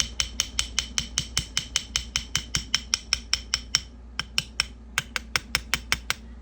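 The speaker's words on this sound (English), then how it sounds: "So now we can tap the side plate with the handle of our hammer to fit it into place." Hammer handle tapping the side plate of a Taurus 856 revolver into place during reassembly: a quick, even series of about thirty light, sharp taps, close and clear, with a brief pause near the end.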